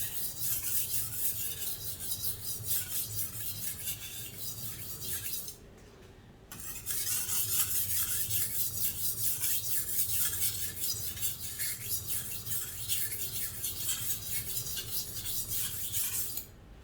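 A western-style knife being sharpened, its edge shaving off metal: close, continuous rasping strokes repeat in a steady rhythm, broken by one brief pause midway, with no voices.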